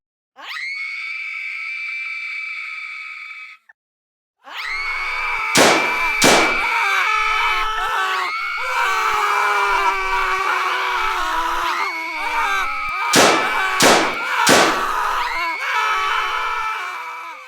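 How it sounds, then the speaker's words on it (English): In a TV drama school shooting, a long sustained scream is followed by a series of loud, sharp gunshots, some in quick pairs, cutting across continued screaming and crying voices. "Shots fired."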